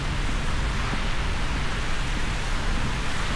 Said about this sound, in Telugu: వాన ఆగట్లేదు.